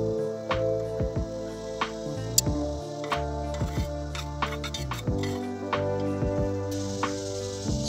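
A waste solution being stirred in a container during gold recovery, with repeated close clinks, taps and scraping knocks against the vessel in an uneven rhythm and no talking.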